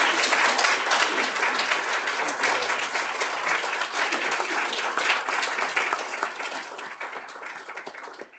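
An audience welcomes a speaker to an inaugural lecture with sustained, loud applause: many hands clapping densely at close range, tapering off slightly toward the end.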